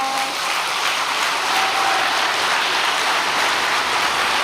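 A crowd at a Korean church gathering applauds, giving dense, steady clapping that carries on loud and continuous from start to end with no break.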